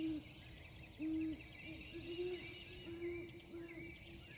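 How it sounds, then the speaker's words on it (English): Owls hoot repeatedly at a Florida campground in the morning, steady low calls recurring every second or so at moderate distance, with faint birdsong and insects behind them. "There's an owl over here. There's owls over here."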